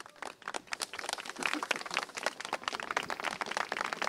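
Applause from a church congregation clapping with gloves on, a dense stream of soft, muffled claps with a dull, damped character, steady throughout at moderate loudness and without talk over it.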